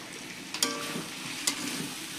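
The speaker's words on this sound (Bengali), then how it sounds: "এই যে আমি মাংস রান্না করছি পোলট্রির" Poultry meat cooks quietly in a pan, giving a soft steady sizzle with two brief sharper crackles or stirring clatters.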